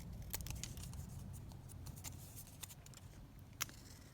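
Scissors snip through a laminated paper file folder in a quiet room, giving a series of faint, crisp cuts at irregular intervals over a low background hum.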